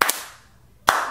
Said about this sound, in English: That's as hard as I can clap.